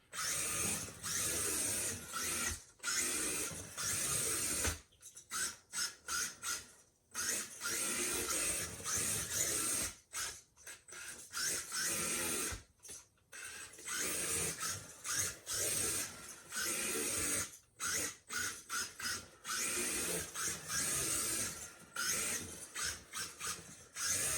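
A Mini-Z AWD RC car with a 3500 kV electric motor runs at full throttle on tiles, making a steady high whine broken by frequent short cut-outs and bursts as it drifts close by.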